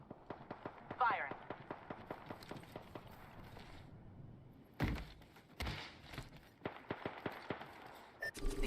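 Gunfire in a battle-royale video game: sharp shots crack in quick rhythmic bursts, then several louder, heavier blasts land further on, under a faint backdrop of game sound.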